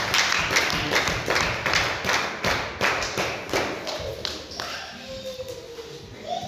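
A church congregation claps in unison, a steady run of sharp claps at a regular beat that soften toward the end as a voice comes in over them.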